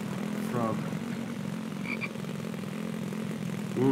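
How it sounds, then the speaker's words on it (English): Frog croaking in a survival video game, The Infected: a few distinct rising croaks near the start and again at the end over a steady low engine-like drone, fairly close, with no talking. "Frog."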